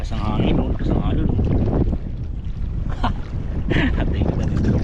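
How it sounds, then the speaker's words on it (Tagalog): Strong wind buffets a boat at sea with waves sloshing around it, a loud, continuous rumble under intermittent voices. "lakas ng hangin, lakas ng alon"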